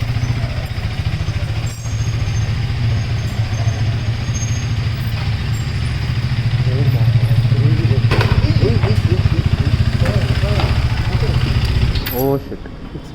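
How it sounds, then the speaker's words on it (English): A KTM Duke 390 single-cylinder motorcycle idles with a steady low chug as it is pushed slowly into a garage, with voices talking over the engine near the end. "Hari is getting his bike inside the garage"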